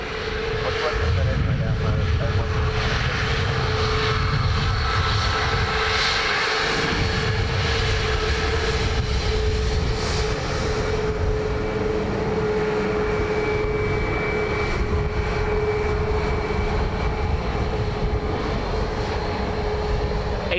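An aircraft lands on runway 28 left at Dublin Airport, its engine roar loud and continuous throughout with a steady tone, under faint radio chatter.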